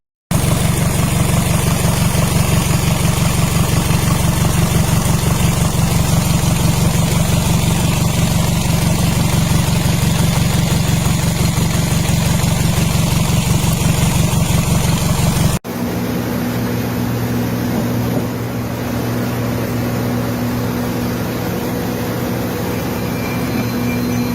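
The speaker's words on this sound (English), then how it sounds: "just got done installing my new exhaust. Then realized I forgot this. That's just a silencer." A loud, raw car engine running without its exhaust silencer rumbles close by with a harsh, unmuffled roar, then drops to a lower, steadier idle drone partway through.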